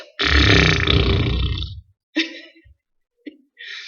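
A voice makes a long, sputtering, raspberry-like noise imitating a balloon deflating, followed by a couple of shorter puffs and a brief breathy sound.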